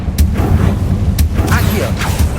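A Confringo blasting spell fires in Hogwarts Legacy, a series of booming blasts with sharp bursts, loud and close, with game effects mixed in.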